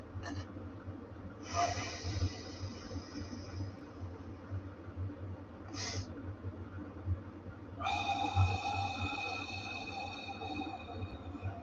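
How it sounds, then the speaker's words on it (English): A person doing a breathing exercise gives one long full exhale, then a short sniff and a drawn double inhale, close and clear over a low steady hum. "we start with an exhale, get all the air out of our lungs, and then double inhale"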